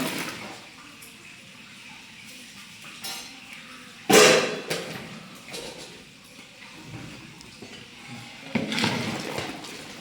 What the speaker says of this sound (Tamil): வெண்டைக்காய் சேர்த்து நல்லா கிண்டி விட்டுக்கிட்டோம்